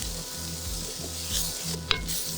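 Onions, peppers and garlic fry with bacon in a pan, giving a steady close sizzle with a regular scraping stir about twice a second and one sharp clink near the end.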